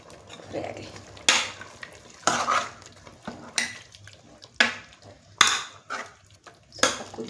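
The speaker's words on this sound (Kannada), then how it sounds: "ಫ್ರೈ ಆಗಲಿ." Chilli chicken frying with coriander and curry leaves in a pan, heard as a series of sharp, clattering utensil strokes against the pan about once a second over a faint background sizzle.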